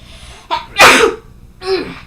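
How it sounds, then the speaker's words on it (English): One loud sneeze bursts out close by, preceded by a short sharp inhale and followed by a softer breathy exhale, with no talking. "I'm gonna sneeze."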